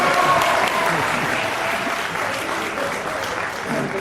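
A university mushaira audience breaks into applause for a poetry recital, dense clapping from a large crowd that stays loud and fades slightly, with some voices mixed in.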